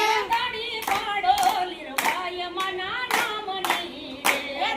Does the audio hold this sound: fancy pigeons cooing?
no